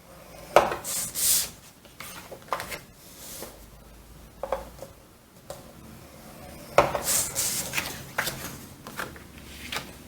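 A scoring tool scrapes a crease into paper half an inch from the edge of a 4 3/4 inch side for a photo booklet, a few short, sharp rasping strokes separated by quiet gaps.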